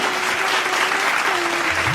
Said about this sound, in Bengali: এগুলো হাততালি